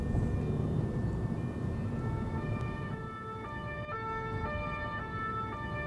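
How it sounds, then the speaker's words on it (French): An ambulance siren wails loudly and steadily, then shifts into a clear alternating two-tone pattern, heard over a constant rumble of traffic. "Les sirènes et les ambulances, ça, je peux pas."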